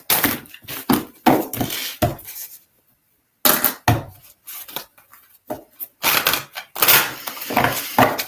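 Cards being shuffled in bursts of crisp riffling and slapping, with a pause in the middle before the shuffling starts again, close and fairly loud.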